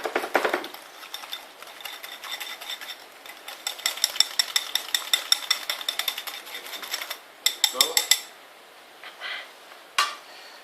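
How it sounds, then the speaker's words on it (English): Lobster sauce with chopped cilantro whisked in a pan or bowl, a steady run of quick metallic clinks and scrapes for about seven seconds, then a few louder sharp taps near the end, close and alone. "you're going to take your whisk it nice together"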